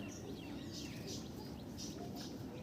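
Pigeons in a loft give soft, repeated coos and faint chirps over a constant low hum and murmur, the birds sounding close but quiet.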